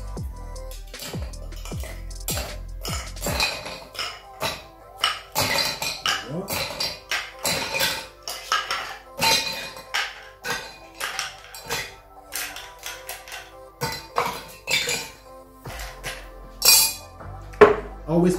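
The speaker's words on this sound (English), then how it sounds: "so I'm gonna add some ice cube to our mixing glass" Ice cubes clink and clatter one after another into a glass cocktail mixing glass, sharp bright knocks in an irregular stream, heard close up while someone talks throughout.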